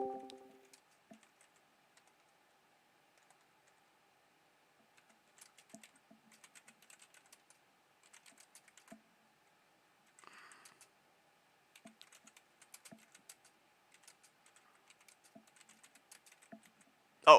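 Sparse computer keyboard typing, with scattered soft keystrokes in short irregular bursts over near silence and a sharper click at the very end.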